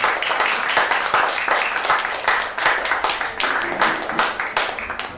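A concert audience applauds a Moscow band after a poetry and rock ballad set, a close, loud run of irregular claps that keeps going without talk.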